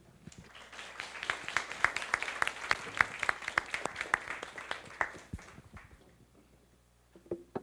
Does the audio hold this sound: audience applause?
yes